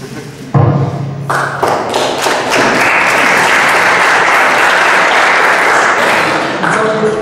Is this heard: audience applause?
yes